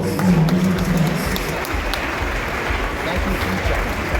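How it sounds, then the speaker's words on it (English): Audience applause for a dignitary at a Democracy Day event, loud sustained clapping from a large crowd that carries on steadily for several seconds, with a few voices mixed in at the start. "One more round of applause for His Excellency."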